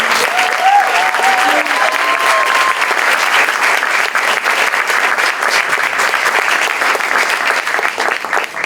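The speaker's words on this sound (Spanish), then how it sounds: "pedirles de nuevo un fuerte aplauso para Didi Giovanni" Sustained applause from a large audience at a documentary premiere, a dense, steady wash of clapping that continues loudly throughout.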